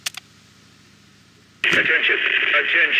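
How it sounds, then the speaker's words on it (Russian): A burst of radio static cuts in after a quiet stretch, a steady crackling transmission hiss that stays loud to the end. "У меня рация принимает сигнал."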